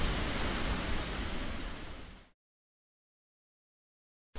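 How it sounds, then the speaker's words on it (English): Steady, loud rain pours down as a dense continuous hiss, cutting off abruptly into silence before resuming briefly at the very end. "The day was very cloudy, and it began to rain"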